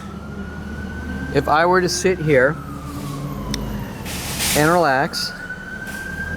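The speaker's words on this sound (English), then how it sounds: "I'm waiting for this annoying fire truck, ambulance" A fire truck or ambulance siren wails past outdoors in rising and falling sweeps, loud and close, over constant background noise, while someone talks at times.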